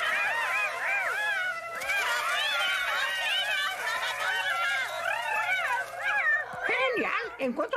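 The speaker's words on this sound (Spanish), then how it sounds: "¡Cuidado! ¡La gata está ahí atrás!" A cat meows and yowls repeatedly in rising and falling cries, loud and close, while voices talk over it in an animated children's film.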